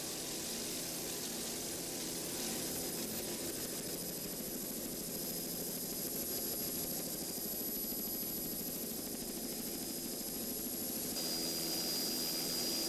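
A Class 5 offshore racing powerboat roars past on the left at a race, its engine a steady, fairly distant drone with a broad, hissing rush that holds for the whole stretch without voices.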